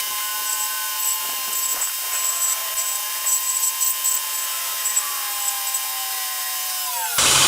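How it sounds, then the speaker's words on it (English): A power sander smoothing a wooden fairy house piece, a continuous high-pitched whine running steadily and loudly at close range, with slight shifts in pitch as the tool works the wood. "Okay, so I'm getting ready to sand this."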